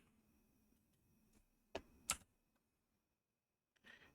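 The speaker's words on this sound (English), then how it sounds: "I'll just click here." A few crisp computer mouse clicks at a PC during the survival game Unreal World, two sharp close clicks close together, then a softer one after a pause, over a low steady hum.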